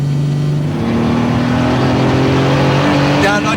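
A turbocharged BMW E46 330i accelerates hard under power, its engine note loud and steady with a rising drone held close throughout.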